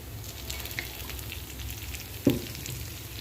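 Diced taro (chamadumpa) coated in chili powder fries in hot oil in a pan, giving a steady, soft sizzle with a brief stir or clatter partway through.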